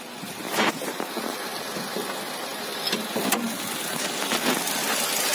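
A Nissan Almera Classic engine runs with the hood open, a steady close mechanical hum and whir with a few sharp clicks and ticks over it.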